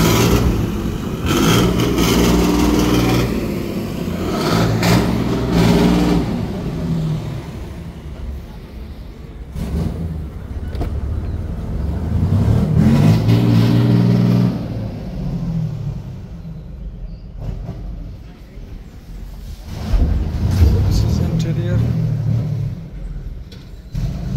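A small Suzuki DA16T engine revs up and down repeatedly, rising and falling in loud bursts close by, with a rough mechanical rumble between revs.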